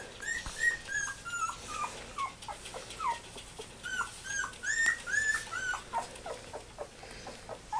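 Newborn puppy whimpers and squeaks in a rapid string of thin, high cries, close and fairly soft, with no talking.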